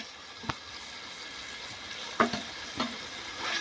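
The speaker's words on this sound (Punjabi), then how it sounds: "ਬੈਂਗਣ ਚੰਗੀ ਤਰ੍ਹਾਂ ਮਿਕਸ ਕਰਕੇ ਮਸਾਲੇ ਦੇ ਵਿੱਚ ਤੇ ਆਪਾਂ ਚੰਗੀ ਸੌਂਸ ਭੁੰਨ ਕਰ ਲਾਂਗੇ ਜੀ" Roasted eggplant being stirred into masala frying in a pan: a soft, steady sizzle with a few sharp spoon-against-pan knocks and scrapes, close by and without speech.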